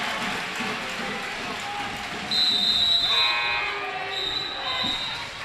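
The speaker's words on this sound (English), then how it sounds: "they'll whistle a travel." Referee's whistle blown for a travelling call during a girls' sub-state high school basketball game, a sharp high tone cutting through gym crowd noise and sneaker squeaks, followed by a couple of shorter blasts.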